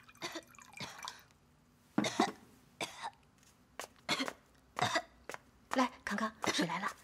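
A child coughs repeatedly at night indoors, several short harsh bursts spread across the moment, fairly close and alone with no talk over them.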